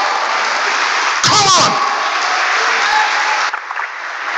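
A church congregation at a joint Sunday worship service applauds loudly and steadily, with a sharper burst of clapping and smacks near the start that settles back into sustained applause.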